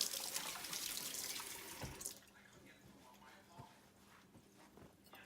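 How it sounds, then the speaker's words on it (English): Kitchen tap water runs loudly into a sink for about two seconds during handwashing after cracking a raw egg, then cuts off, leaving quiet handling noises and faint voices. "And then I'll wash my hands since I just got that raw egg on myself."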